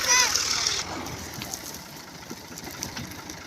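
A tractor idles in a Punjabi village after arriving to haul wheat straw, giving a steady low, pulsing engine throb throughout, with a brief louder splashy burst at the start and faint voices in the background.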